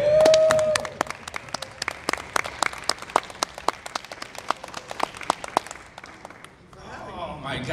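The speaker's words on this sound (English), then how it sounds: "please give a big round of applause" Convention panel audience at Visioncon 2023 breaking into applause, a dense burst of many hands clapping that carries on for several seconds and then thins out as a voice resumes.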